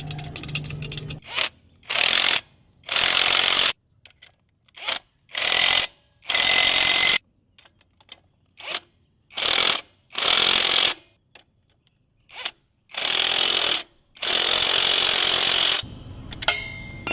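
A hand ratchet tightens a nut and lock washer on a Rusi motorcycle fitted with alloy parts. Loud, close bursts of rapid clicking alternate with short silent pauses across the whole stretch, with no talking.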